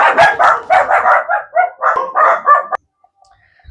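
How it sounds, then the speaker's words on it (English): Dogs bark in a rapid, loud series of close yaps and woofs for almost three seconds, then stop, leaving near silence. "that time they were actually barking at an actual person"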